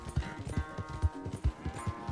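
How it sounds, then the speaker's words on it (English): Horse hooves clip-clop at a steady walking rhythm in Red Dead Redemption 2, the low thuds fairly close and clear, with a faint background hum and no talk. "Where's that big mean horse?"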